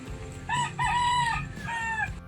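A rooster crows loudly and close by, a drawn-out cock-a-doodle-doo followed by a shorter second call.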